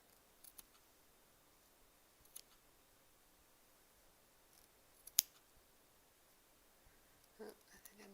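Scissors snip the loops of turkey work stitch embroidery, making a few sparse, sharp, close snips scattered over a quiet background, with one louder cut standing out near the end.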